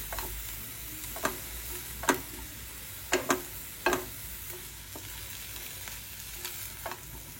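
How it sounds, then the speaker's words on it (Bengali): Butter melting in a pan while being stirred, with a soft sizzle under scattered scraping taps of a utensil spaced irregularly. "ব্যাস নাড়াচাড়া করে নেবো, বাটারটা গলে গেলে সার্ভ করে দেবো।"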